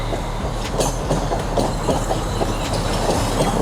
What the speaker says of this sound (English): Here's a train right now.